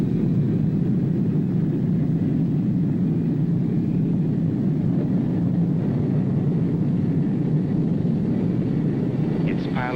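A medevac helicopter lifts off for its flight, a steady, loud low rotor and engine rumble filling the whole stretch with little change. Faint voices sit beneath the roar near the end.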